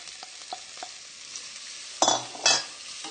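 Leeks going into a hot pan for a leek sauce, a soft steady sizzle with a few light stirring scrapes and two sharper clatters of a utensil against the pan, close by with no talk.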